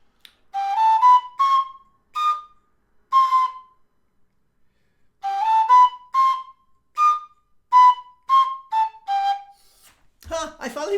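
D tin whistle plays a scale exercise as a run of short, clearly tongued notes in two phrases separated by a pause, close and solo, with a brief noisy thump at the end.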